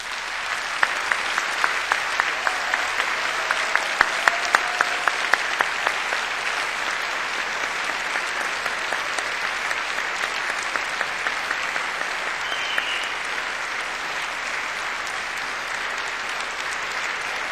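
A large graduation ceremony crowd at Cardiff University gives a long, enthusiastic round of applause for family and friends, dense steady clapping filling the hall throughout and tapering only slightly near the end.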